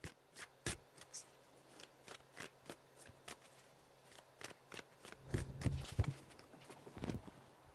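Tarot cards are shuffled in a quiet room, with a series of crisp riffling bursts and soft taps, irregular but steady, growing denser and louder toward the end.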